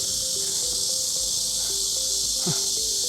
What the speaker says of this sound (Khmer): ឮសំឡេងរៃយំ